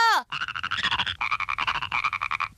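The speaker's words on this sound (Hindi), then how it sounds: "ये इतने सारे मेंढक, अब मैं क्या करूँ?" Many cartoon frogs croak together in a dense, rhythmic chorus of rapid pulsing calls, loud and close, after a brief high voice-like sweep at the start.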